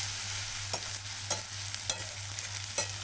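Green chilies frying in oil with garlic and ginger for a vada pav filling, giving a steady high sizzle broken by a few sharp stirring scrapes against a low steady hum, with no talking.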